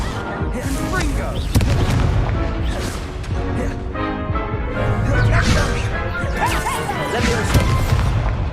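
A Confringo blasting spell amid combat in Hogwarts Legacy: repeated loud smashing explosions and whip-like magical cracks over busy battle noise, with voices and music woven through the dense, continuous mix.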